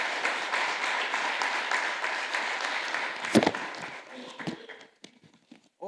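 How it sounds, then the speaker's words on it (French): An audience applauds presenters after a talk on the Lake Osisko diagnostic portrait, a dense sustained clatter of many hands that thins out after a few seconds into a few last claps and near silence. "Je voudrais qu'on applaudisse Jean-Loup David et Yves Grafteau"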